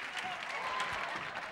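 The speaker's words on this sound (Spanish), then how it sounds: "¡Fuerte el aplauso, señor!" An audience at a magic show claps steadily in dense, continuous applause that fills the whole moment, with a faint voice audible beneath.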